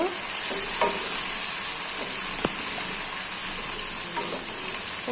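Chopped green chilies sauté in hot oil for lemon rice, giving a continuous bright sizzle with a few sharp spatula scrapes and taps against the pan. No one speaks.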